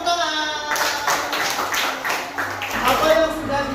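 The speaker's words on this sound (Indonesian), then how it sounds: "Bagi tepuk tangan." Schoolchildren in an elementary classroom clap their hands together, a loose, rhythmic patter mixed with a teacher's voice and some classroom chatter.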